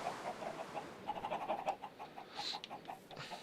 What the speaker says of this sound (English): Check out these chickens.